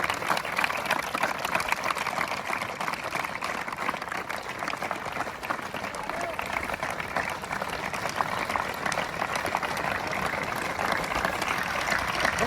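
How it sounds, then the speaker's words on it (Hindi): Loud, sustained crowd applause rolls on without a break for about twelve seconds, a dense even wall of clapping from many hands. "हाँ, तालियां जोरदार बजती रहे।"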